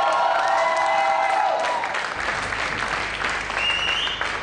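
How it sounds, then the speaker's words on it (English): A live audience on a hip-hop talent show breaks into loud, sustained applause with some cheering, a dense wash of clapping that holds steady throughout while music fades underneath. "Make some noise for Malika one more time"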